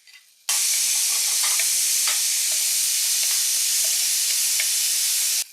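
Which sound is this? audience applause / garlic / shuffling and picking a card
garlic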